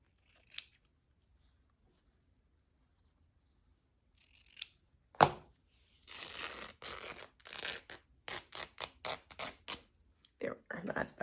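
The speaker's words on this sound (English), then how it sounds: "I'm going to cut this in two. Or start to cut," Scissors snip once to start cutting something in two, then a run of sharp tearing and ripping bursts follows as it is pulled apart, close and fairly quiet.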